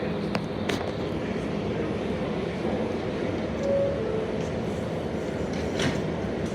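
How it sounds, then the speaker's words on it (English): New York subway 7 local train at Queensboro Plaza, bound for Flushing Main Street, gives a steady low rumble with faint squeals and rattles, heard from inside or beside the moving train. "This is a Flushing Main Street bound 7 local train."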